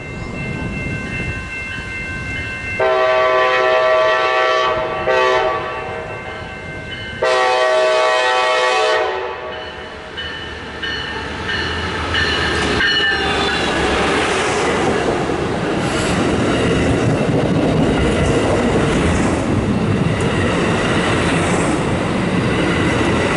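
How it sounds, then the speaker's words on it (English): An Amtrak Surfliner led by a Siemens SC-44 locomotive rolls into a station, sounding two loud sustained horn blasts before its rumble and wheel noise build steadily as it nears and passes close by. "Another Surfliner charges into the station behind a Siemens SC-44."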